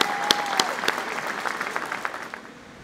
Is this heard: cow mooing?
no